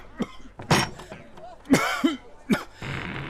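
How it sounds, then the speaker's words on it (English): A man with a persistent cough lasting many days coughs repeatedly in a domestic setting, several harsh, throaty bursts spaced unevenly, close and fairly loud, with some throat clearing between them. "You've been coughing like this for so many days now."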